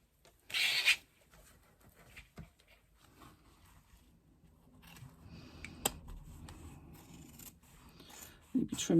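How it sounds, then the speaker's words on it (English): Scissors snip the seam allowance of a fabric wallet pocket in a handful of short, crisp cuts spread between quieter handling and rustling of material, fairly close. "I'm going to trim that seam allowance on that pocket down to about"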